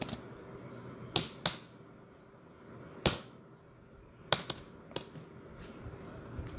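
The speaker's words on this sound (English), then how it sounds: "Like you can see here I am typing the letter." Sparse keystrokes on a computer keyboard during a computer lesson on managing files and folders, heard as a handful of sharp, close clicks with irregular pauses over a faint hum, some in quick pairs.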